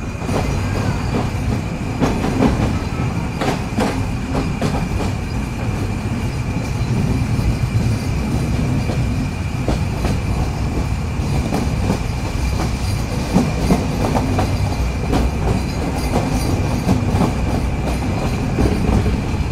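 A train pulling out of Mobarakganj railway station, with a steady loud rumble of rolling wagons and repeated clickety-clack of wheels over rail joints throughout, no talk.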